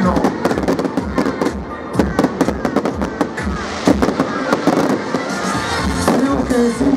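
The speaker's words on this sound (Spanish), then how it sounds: "Maravilloso espectáculo de fuegos artificiales." Fireworks at the 138th anniversary festival of Lago Argentino in El Calafate crack and boom in rapid irregular bursts, some sharp and close, over a murmuring crowd with voices mixed in.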